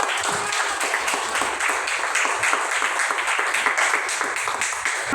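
A classroom of students clapping hands together, a steady, fairly dense patter of many small claps lasting several seconds at a moderate level, with no talk over it.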